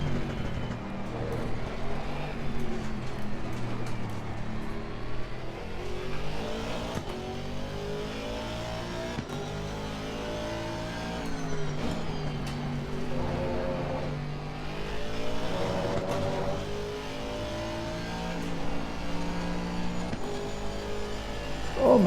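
A race car engine in Assetto Corsa Competizione drones at near full throttle, loud and continuous, with rising and falling pitch through gear changes and a brief lift mid-corner.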